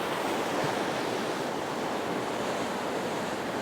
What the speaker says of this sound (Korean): 오늘은 파도가 생각보다 너무 잘쳐져가지고 잘하면은 대물들을 만날 수 있을 것 같아요.